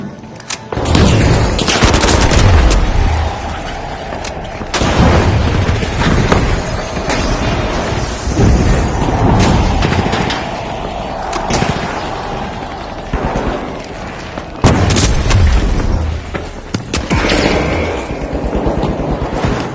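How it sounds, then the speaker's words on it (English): Video game The Finals on PS5 Pro: a frag grenade blast among loud, rapid bursts of gunfire and booming explosions, continuous and close throughout a heated firefight. "Throwing a frag."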